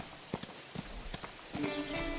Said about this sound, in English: This feels like a more realistic horse.